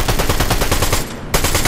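Rapid automatic gunfire from an upgraded siphon weapon in a shooter game, loud and dense bursts with a brief pause before firing resumes.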